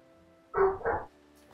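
A dog gives two quick barks in the distance, faint against a quiet background.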